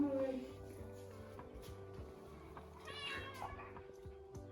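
Indoors, a house cat gives a short meow near the start, followed by quiet room noise and a few faint household clatters.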